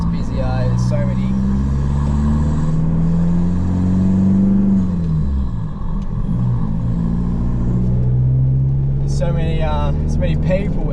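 Steady car engine and road rumble from inside a vehicle driving on a busy road, continuous and loud throughout, with a person talking over it.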